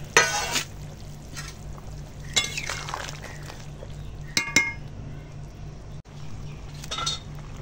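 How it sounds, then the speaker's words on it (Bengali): Pieces of fried fish go into a simmering ridge gourd curry in a pan over a wood fire, with sharp clinks of a metal utensil against the pot, soft stirring and a low bubbling underneath. "এবার এই ভেজে রাখা মাছ কটা দিয়ে দিলাম।"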